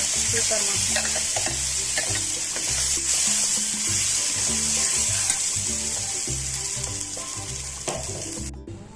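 A tempering for peanut and puffed-rice chutney sizzles loudly and steadily in hot oil, stirred throughout, while music plays underneath the frying.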